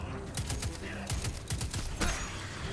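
Rapid gunfire in the video game Destiny 2, a fast stream of sharp, clicky shots in short bursts, with a voice talking over part of it.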